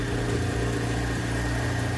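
A car engine idles with a steady low rumble and faint periodic vibration, continuous and close, with no voices.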